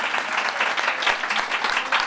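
An audience at a panel talk on ballroom culture breaks into loud, sustained applause for the panelists, a dense and even wash of clapping close by.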